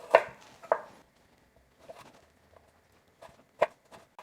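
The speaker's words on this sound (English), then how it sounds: "we're just doing basically matchsticks with our carrots" A knife chops carrots into thin matchsticks on a board: a few sharp, separate taps spaced irregularly, close and clear, with quiet gaps between.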